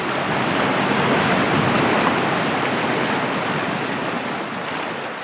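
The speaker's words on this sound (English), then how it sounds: "All that could be heard was the river." A river flowing at night, a steady broadband rush of moving water that holds constant and close, with no voices or other sounds.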